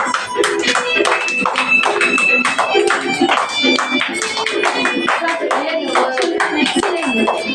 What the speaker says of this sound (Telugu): అందరూ పిల్లలు చప్పట్లు కొట్టాలి